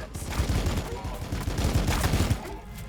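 Gunfire and flamers in the Warhammer Battlesector video game: a dense, rapid volley of shots crackles continuously at close range, with a lower roar underneath, then eases off in the final moments.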